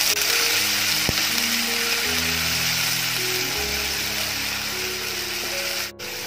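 Ginger, garlic and green chili paste fries in hot oil for a chicken curry gravy, giving a steady, close sizzle that holds throughout with a brief clank near the end.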